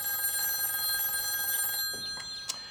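Steady electronic ringing of a telephone while a call is being placed, a continuous tonal trill for about two seconds, then it stops and faint clicks and small handling noises follow.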